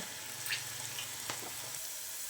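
Okra for a kurkure snack sizzles steadily as it fries in hot oil in a pan, a continuous close crackle with a few light stirring clicks and no talk.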